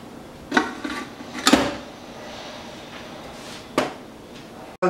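A whole chicken with butter and thyme goes into the pot of a Ninja Foodi 6.5 Qt pressure cooker, giving a few sharp clunks and knocks of the pot and chicken, then a quieter stretch and one final bump.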